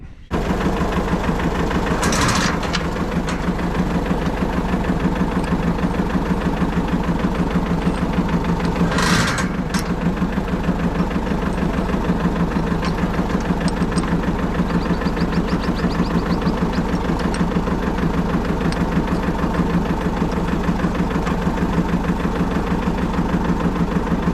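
A farm tractor's engine runs steadily nearby with a rapid, chugging, knocking pulse throughout. Two brief louder hissing bursts rise over it early on, and no one speaks.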